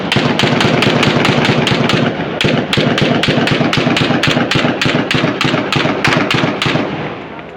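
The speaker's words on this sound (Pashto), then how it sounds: "دا د افتخار دی د حجرې نه ډزې کېږي او دې خوا د نشنلیانو د طرف نه هم ډزې کېږي" Gunfire is exchanged between a house and rival supporters during an election dispute in Charsadda, Pakistan, heard as rapid, loud, evenly spaced bursts of shots that continue for several seconds.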